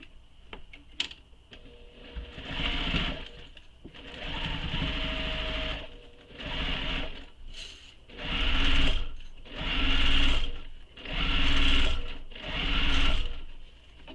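A sewing machine bastes a bag lining to the exterior of a mini messenger bag in a run of steady stitching bursts, each a few seconds long, with short pauses between them. The machine is loud and close, and no one talks.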